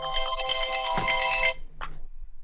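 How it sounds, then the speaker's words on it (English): Phone timer alarm set for pizza in the oven, a bright electronic ringtone melody playing close for about a second and a half, then cutting off, followed by a brief faint sound. "That was my alarm for my pizza."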